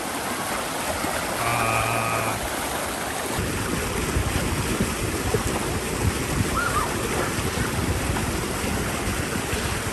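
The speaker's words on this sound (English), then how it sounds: "I've been requested to make a run down the water slide here and video it" Water rushes steadily down a natural rock slide at Widow Creek Falls, a loud continuous roar and splash, with a brief faint tone early on.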